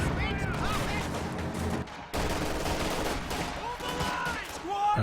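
Gunfire and battle noise in Company of Heroes 2 during a 2v2 match, overlapping shots and bursts with a brief lull, mixed with game sounds and a voice talking over it.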